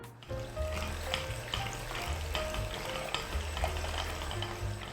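An electric mixer whisks egg whites with granulated sugar for a honey Castella sponge, a steady whirring with rhythmic stirring and light clatter against the bowl, continuous and close, with no talking.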